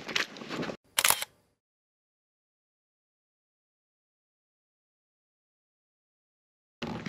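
A single-lens reflex camera on a tripod fires its shutter in two crisp clicks near the start, then long silence before another mechanical click sound at the end.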